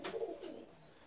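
Fancy ornamental pigeons coo in a short, soft burst at close range, one low throaty call fading quickly into quiet.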